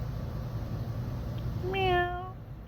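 A single cat gives one clear, drawn-out meow partway through, fairly close, over a quiet background hum.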